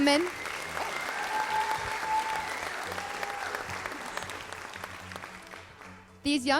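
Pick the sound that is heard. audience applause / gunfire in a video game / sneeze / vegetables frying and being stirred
audience applause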